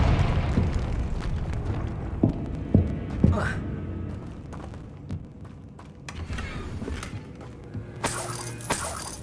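Blasts from the Confringo fire spell in Hogwarts Legacy burst out as a few sharp, booming cracks over crackling, rumbling game ambience, with a bright flaring burst near the end.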